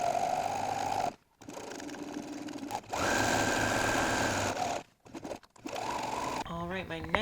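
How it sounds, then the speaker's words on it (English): Sewing machine running zigzag stitches along a pinned seam of loungewear fabric, a steady whirring hum in several runs broken by short pauses, close and fairly loud. "All pinned up and ready to sew the seam,"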